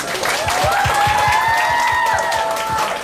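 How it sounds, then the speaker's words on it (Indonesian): Scattered applause from an audience at a Catholic high school celebration in Kupang, rhythmic clapping under a sustained tonal musical or chanting sound, moderately loud and steady for a few seconds. "Tepuk tangan dulu buat kepala sekolah dulu nih."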